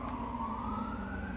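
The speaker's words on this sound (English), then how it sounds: "If you ignore those sirens" A police siren wails outside at a distance, a steady rising tone heard faintly over low background noise.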